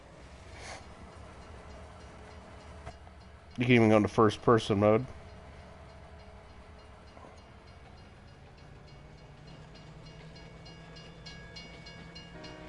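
A train driven in Farming Simulator 19 on PS4 rumbles steadily throughout, with a loud burst of several horn blasts early on, while people talk over it.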